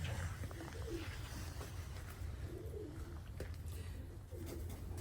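Soft, repeated pigeon cooing in low rounded phrases, a few calls spread across the clip over a steady low background rumble.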